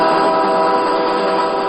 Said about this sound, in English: it's time to load this train up